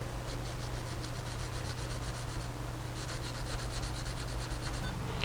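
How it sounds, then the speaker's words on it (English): Steady, close scraping of abrasive paper rubbed by hand back and forth over a metal part from a belt sander in a quick, even rhythm, with a low hum underneath. "So give it a little bit of a sanding, see if I can get it to go on a little easier."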